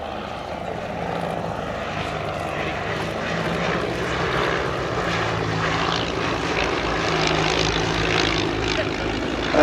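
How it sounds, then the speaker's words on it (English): Two de Havilland DH60 biplanes, a Cirrus Moth and a Hermes Moth, fly in formation at an airshow, their piston engines and propellers making a continuous loud droning buzz with a light whooshing overhead. "The lead of the formation is a cirrus moth, and the one behind is a Hermes moth."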